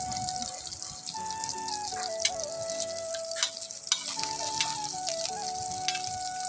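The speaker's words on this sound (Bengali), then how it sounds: "আমি আগে ডিম ভাজি করছি, এখন বর্তমান মাছ ভাজি করতেছি" Fish frying in a pan, a moderate steady sizzle with occasional spatters and clinks, accompanied by a persistent tonal whine in the background.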